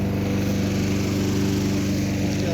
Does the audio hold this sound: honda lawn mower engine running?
yes